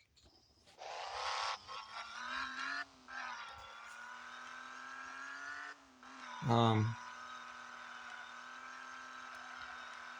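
A truck on a test drive gives a steady motor hum with a thin whine that shifts in pitch, one short louder burst midway, and someone speaking briefly.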